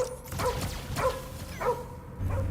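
Cosmo the space dog barks in the Guardians of the Galaxy video game: three or four sharp, close bow-wow barks spaced about half a second apart, with a low game rumble underneath.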